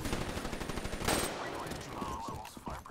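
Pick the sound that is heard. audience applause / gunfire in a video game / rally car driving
gunfire in a video game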